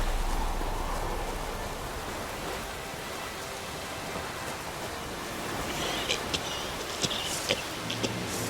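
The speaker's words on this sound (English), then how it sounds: "Looks like rain." Steady rain hisses across a scene in The Witcher 3: Wild Hunt, a soft broadband wash that holds even throughout, with a few sharper drip-like ticks near the end.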